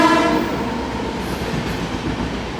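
The Kanyakumari–Banaras express train rolls past close by, its horn sounding at the start before giving way to a steady loud rumble and rattle of passing coaches.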